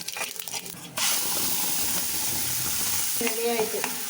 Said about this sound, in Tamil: எண்ணெய் சூடாக ஊற்றி கொஞ்சோண்டு கடுகு, சுத்தம் பருப்பு சட்னியில் ஊற்றி